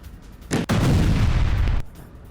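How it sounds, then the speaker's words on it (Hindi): A truck is blown apart by a sudden explosion, a sharp crack followed by a loud, rumbling roar that lasts about a second before cutting off, heard in news footage. "जैसे ही वो अंदर दाखिल होता है तभी धमाका, ट्रक के परखच्चे उड़ जाते हैं"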